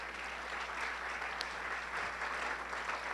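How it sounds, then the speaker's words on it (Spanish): A church congregation claps together in a steady wash of applause, fairly faint and distant, over a low constant hum. "¿Qué dice si le damos un fuerte aplauso a todos los que nos ven"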